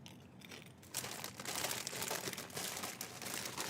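Carbon window tint film for a Kia Forte crinkles and crunches as it is handled, giving a steady run of close, papery rustling and crackling with no talk.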